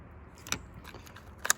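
Keys jangle in two short bursts, a faint metallic rattle first and a sharper, louder clink near the end, against quiet background.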